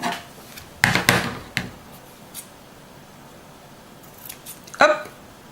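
Scissors snip through ribbon in a few sharp cuts with quieter handling rustles between, close by, as the ribbon is made into a small bow with a fork.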